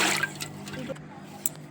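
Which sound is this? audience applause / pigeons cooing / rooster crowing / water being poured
water being poured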